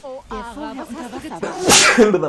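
A single sharp human sneeze bursts out near the end, loud and close, right after someone speaking German during a gaming session.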